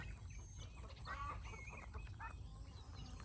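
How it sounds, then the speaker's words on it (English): Faint hen cackling after laying, repeated bursts over a low steady rumble, somewhat distant. "She's cackling in the background."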